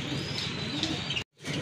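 Rajgolla pigeons in a loft coo softly and continuously nearby, a low murmuring layer with faint chirps on top, cut by a brief silence before the cooing resumes.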